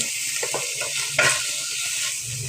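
Onion, garlic and cumin paste frying in oil, a constant bright sizzle with a few soft stirring scrapes and one sharper clatter of a spoon against the pan, close up with no talking.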